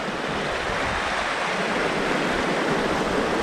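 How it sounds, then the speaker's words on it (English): A river flowing in a highland setting, its steady broadband rush of clear water running continuously and fairly loud, close by, with no talk over it. "how to get across this river?"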